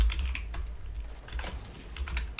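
Rapid clattering keystrokes on a computer keyboard come in quick irregular bursts during a Rocket League session, close and fairly clear.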